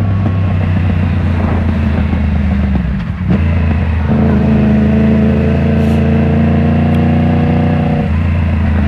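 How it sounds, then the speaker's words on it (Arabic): A Yamaha MT-10 motorcycle engine drones loudly and steadily at close range, broken near the middle by a brief sharp exhaust pop before the engine note settles back into a smooth hum. "ما عرفتش واش كتسمعوا هاد الصوت هذا ولا ما كتسمعوش. واحد الباك فاير."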